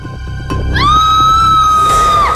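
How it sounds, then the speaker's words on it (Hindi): A child's high, piercing scream rises suddenly and holds, shrill and loud, over a low murmur of background noise. "बच्चे की चीखने की आवाज।"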